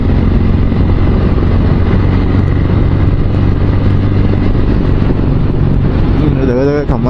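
A Bajaj Dominar motorcycle cruises along a road, its engine humming steadily beneath heavy rushing wind noise, with someone speaking over the ride toward the end.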